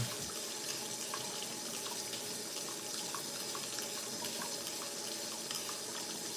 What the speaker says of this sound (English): So you just fill it up with water, shake it up a little bit, and spray it down.